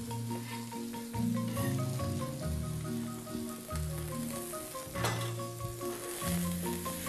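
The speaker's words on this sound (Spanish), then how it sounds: "Calientita la sartén, miren, ahí así cuando está bien, bien caliente la sartén, la carne se va sellando" Meat sizzles steadily in a very hot frying pan, a constant crackling hiss with occasional louder pops close by.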